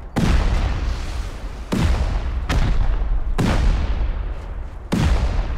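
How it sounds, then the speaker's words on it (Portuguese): Heavy explosions in the survival video game Rust, five booming blasts spaced irregularly, each with a sharp onset and a long rumbling tail that overlaps the next, loud and close with no talking. "Ó, tem explosões no seu vídeo."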